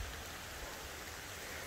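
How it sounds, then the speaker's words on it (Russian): Steady rain patters softly and evenly on a strawberry field, a continuous wash of drops with no other sounds over it. "Все, мы попали под дождик."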